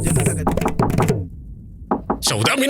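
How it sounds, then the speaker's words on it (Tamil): Someone knocks on a door in a Tamil TV drama scene. A couple of quick knocks land in a pause between stretches of talking. "யாரோ கதவை தட்டுறாங்க."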